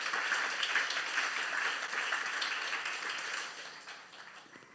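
Congregation applause at a church youth service, a dense sustained patter of many hands clapping together, steady and fairly close before tapering off toward the end.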